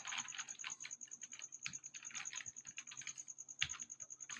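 Someone types code on a computer keyboard, producing quick, irregular bursts of close, soft key clicks at low volume.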